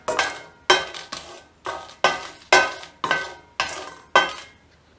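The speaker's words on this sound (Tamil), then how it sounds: "இந்த மிளகாய் வந்து லைட்டாக ஒரு ரோஸ்ட் ஆற வரைக்கும் வறுத்தா போதும்" Dried red chilies and garlic dry-roast in a pan, stirred in about nine sharp, rhythmic scraping strokes roughly half a second apart, each fading quickly, loud and close.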